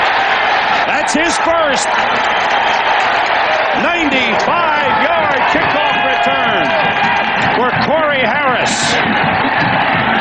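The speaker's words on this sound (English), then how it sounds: "The crowd's going wild." Football stadium crowd, Vikings at Ravens in 1998, roaring loudly and steadily after a kickoff return touchdown, with a commentator talking excitedly over the constant cheering.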